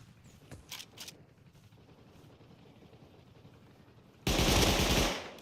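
Gunfire in the Rust console video game: a couple of distant single shots early on, then a loud, sustained burst of rapid automatic fire that cuts off abruptly, no talk.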